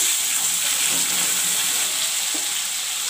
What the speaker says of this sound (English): Now I'll fry the potatoes.